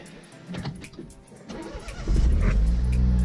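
A car engine cranks and then catches, settling into a loud, steady running rumble for the last second or so after some faint clicks and rustling.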